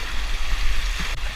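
River rapids on the Spey rush in a steady, loud, close roar of churning water, with no voices over it.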